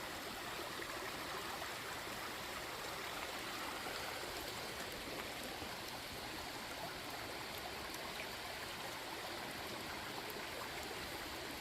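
Creek water runs steadily past a cabin on the bank in Linn Run State Park, Pennsylvania, a continuous close rushing babble with no break or voices.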